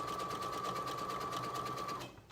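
Cover stitch sewing machine running continuously as it sews through elastic on a tankini, a steady close whirring drone with a rapid needle rhythm that stops near the end.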